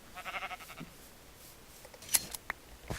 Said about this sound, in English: Oh my gosh, the amount of sheep here is ridiculous.